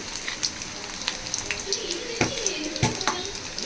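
Garlic frying in hot oil for a Tamil dried fish curry, giving a steady crackling sizzle with scattered sharp pops, close and moderately loud, with no voices.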